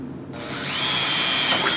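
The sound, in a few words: power drill with 1/4 inch bit drilling a hole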